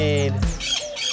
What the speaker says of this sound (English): we had multiple birds come up to feed